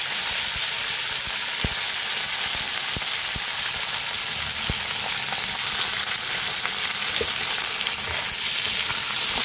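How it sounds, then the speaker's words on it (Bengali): Ivy gourd pieces and green chillies frying in hot oil, a dense close sizzle with occasional sharp stirring knocks, steady and alone without voices. "এবার আমি তেলের মধ্যে কুঁদরিগুলো দিয়ে দিলাম"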